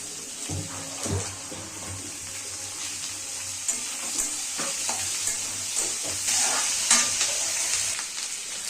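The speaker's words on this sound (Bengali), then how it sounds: "এবার একে একে কেটে রাখা পেঁয়াজ, টমেটো, ক্যাপসিকাম ওগুলো ভেজে নিতে হবে।" Chopped onion, tomato and capsicum sizzle in a pan at home, with a steady frying hiss broken by scraping stirs and clinks of a spatula, close and alone without talk.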